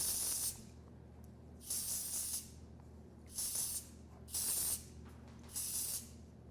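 Five short hissing bursts from an aerosol hair product spray can, spaced about a second apart, close and fairly quiet.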